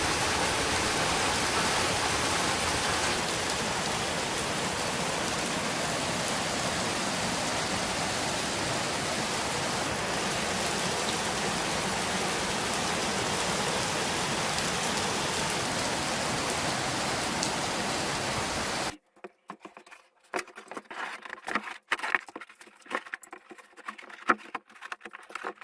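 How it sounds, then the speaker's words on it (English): Steady, dense downpour of heavy rain roaring without a break, then cutting to quieter, uneven patter and scattered drips near the end. "Then it started raining, but raining really bad,"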